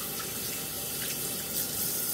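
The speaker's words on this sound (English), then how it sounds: "So I'm gonna wash my hands for a minute." Hands being washed under a running kitchen tap while making cream cheese icing, a steady close splash of water into the sink throughout with no talking.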